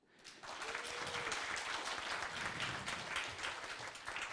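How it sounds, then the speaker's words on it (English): Audience applause at a debate swells quickly into dense, sustained clapping from a crowd that holds steady to the end. "So can I hear your applause at the moment?"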